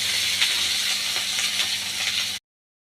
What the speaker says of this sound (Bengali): কাঁকরোলগুলো নাড়াচাড়া করে নেব, একটু লাল লাল করে ভেজে তারপর মশলাগুলো দেব